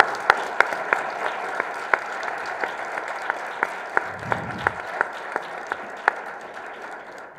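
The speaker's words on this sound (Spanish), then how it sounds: "para quien pido un enorme aplauso" At the 2021 Guadalajara International Book Fair, an audience applauds writer Sergio Ramírez with sustained clapping. Distinct claps recur in a steady, almost rhythmic pulse over the dense patter for several seconds.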